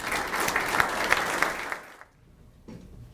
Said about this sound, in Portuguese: recebam com aplausos o nosso homenageado